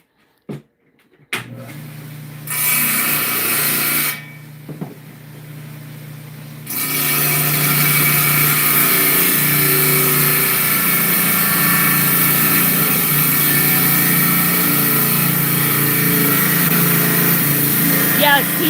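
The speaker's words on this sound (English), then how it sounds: "All right, let's cut this rock." Rock saw cutting moss agate: a loud, steady mechanical whine and grind that starts in short bursts, then runs continuously, close by, with voices heard briefly at the start.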